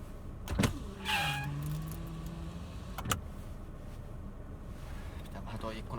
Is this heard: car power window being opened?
yes